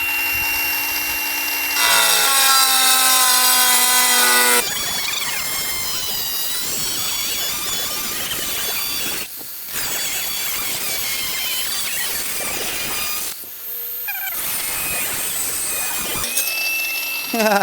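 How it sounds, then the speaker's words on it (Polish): A Distar Colibri 76mm 0.8mm diamond blade on a small power tool cutting a chip-prone ceramic tile: a high whining spin-up, then long gritty grinding passes with brief drops in tone between cuts, loud and close. "Teraz zrobimy sobie cięcie na tej płytce, która potrafi często odszczerbywać"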